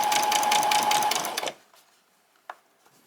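A sewing machine running a quick back stitch on pyjama bottoms, a close, loud rapid needle chatter with a steady motor whine that stops sharply after a second and a half, followed by a soft click.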